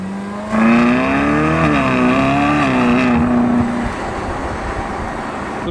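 A Ferrari California's engine revs with its exhaust valves open, a loud, rising and falling tonal howl for a few seconds before dropping back to a quieter running hum, with no talk.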